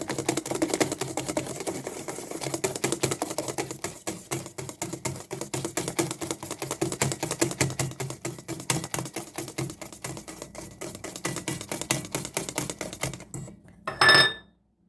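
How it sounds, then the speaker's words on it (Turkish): Chocolate being whisked into beaten eggs and sugar for brownie batter: fast, steady clicking of a whisk against a bowl, close and continuous for about thirteen seconds before it stops with a final clink. "şimdi çikolatayı ekleyeceğim. Ve karıştıracağım."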